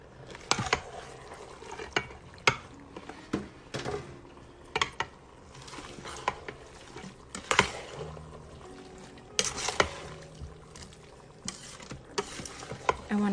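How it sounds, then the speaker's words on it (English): A spoon scrapes and knocks against a pan while veggie taco filling with taco seasoning is stirred, producing quiet, irregular clinks and taps with soft shuffling between them. "And then I'm going to give this a good stir."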